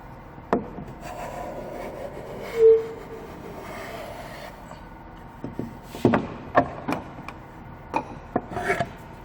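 A hand plane rasps across freijó wood against the grain with a rough scraping, followed by a series of choppy, uneven cutting strokes that grow louder toward the end.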